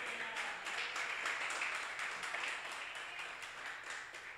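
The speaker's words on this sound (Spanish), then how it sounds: "¿Alguien puede darle un aplauso al Señor?" A church congregation at a Spanish-language service applauds, with fairly soft, crisp clapping from a moderate group that swells slightly early on, then eases and thins toward the end.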